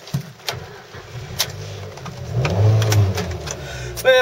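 Mazda Demio Sport engine starting and settling into a low idle nearby with a brief rise in revs, accompanied by scattered clicks and small handling noises.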